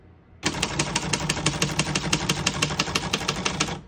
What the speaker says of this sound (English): We're going to keep it on single for now